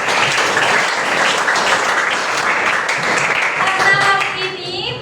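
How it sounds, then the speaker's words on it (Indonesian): A grade 8 class applauds together in a classroom, a dense, steady burst of many hands clapping for about five seconds, with children's voices chattering faintly underneath toward the end. "Mari kita tepuk tangan untuk kita semua."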